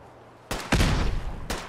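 Gunfire in the video game Fallout 4 rings out as a few loud, sharp bursts, one heavy blast with a booming tail followed by another crack a moment later.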